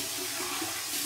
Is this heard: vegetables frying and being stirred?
no